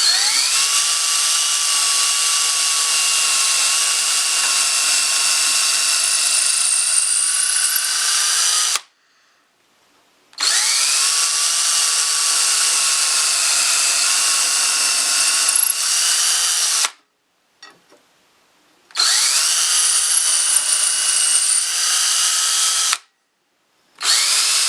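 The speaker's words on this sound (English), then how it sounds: "I have set up my other drill here with a long 1/8 inch drill bit" Steady high-pitched whine of a power drill with a long 1/8 inch bit boring into wood for a patio chair, running in three long stretches separated by short pauses.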